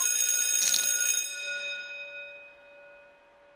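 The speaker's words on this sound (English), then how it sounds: "The bell rang." School bell in the horror video game Tiny Bunny gives a single bright metallic ring that sounds loud at first, then fades away slowly over a few seconds, heard alone.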